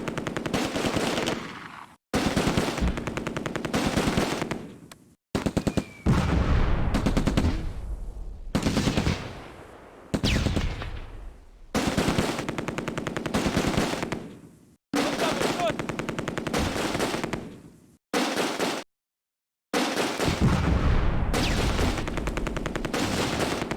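Machine gun fire rattles in long, dense bursts in Close Combat: A Bridge Too Far, loud and near, broken by short silent gaps between volleys.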